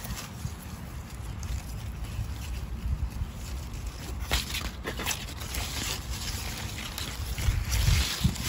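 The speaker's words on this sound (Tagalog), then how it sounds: "So windy." Steady outdoor wind rushes and buffets the microphone in a garden of potted strawberry plants, with low rumbling gusts throughout and stronger bursts near the end.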